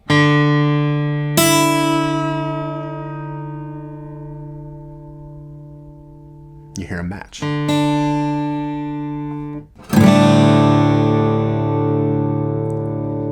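Open guitar strings in DADGAD tuning ring out in a sustained chord, fade, are briefly muted, then strummed again; a voice speaks briefly in between.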